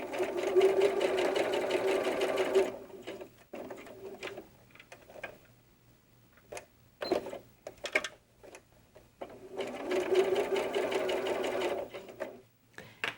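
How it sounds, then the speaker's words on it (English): A sewing machine top-stitching doll diaper fabric runs in two steady, fast rhythmic bursts at close range, with quieter handling clicks and fabric shuffling in between, no talking. "So I'm going to top stitch this one"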